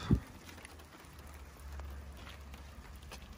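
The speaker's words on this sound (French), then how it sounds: "Ouais, il pleut sa mère." Rain falling outdoors around a car, a soft steady hiss of drops with faint low rumble, starting after a brief knock, fairly quiet throughout.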